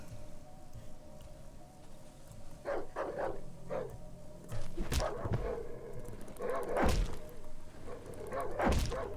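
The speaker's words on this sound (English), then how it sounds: "there's a dog in there" A dog barks in the horror video game Darkwood: several sharp barks come in uneven clusters, some single and some doubled, against a low, murky ambient game background.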